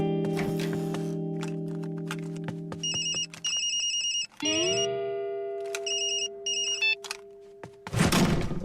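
A mobile phone rings in repeated electronic bursts, loud and near, layered over sustained musical tones, with a short burst of noise near the end.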